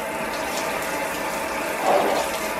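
Water from a shower runs steadily as a small child is washed at evening bath time, a continuous broadband hiss that swells briefly near the end. No talking is heard.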